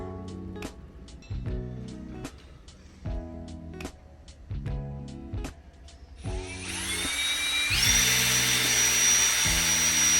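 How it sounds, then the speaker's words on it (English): A series of short, sharp knocking or tapping bursts gives way to a rising, high-pitched whine as a power drill spins up and runs steadily, while fitting an intake on a Honda S2000. "Right, let's get the drill out."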